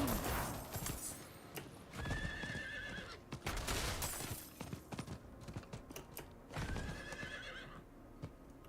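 A horse in the video game Diablo IV gallops with quick clip-clop hoofbeats and lets out several loud neighs and whinnies, with game effects clattering around it.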